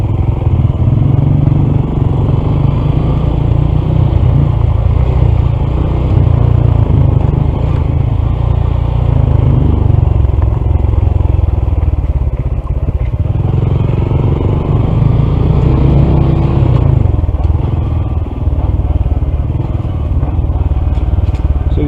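Two Honda CT125 motorcycles ride along back roads, a steady low engine drone with road and wind rumble running continuously throughout, close and loud, with faint clatter.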